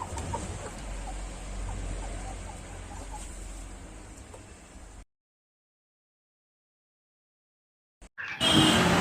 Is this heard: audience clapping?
no